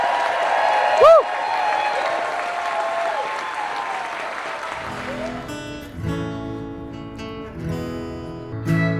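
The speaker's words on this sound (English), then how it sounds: "Please give a huge round of applause to our amazing galley stewards, also known as the Nobles." Loud, sustained applause and cheering from a crowd honoring galley stewards at a cruise ship party aboard the Holland America Zuiderdam, with a whoop early on and music joining partway through.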